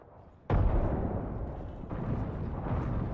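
A frag grenade detonates in Apex Legends with one sudden loud boom, followed by a long rumbling roar that swells again briefly before the clip ends, with no voices.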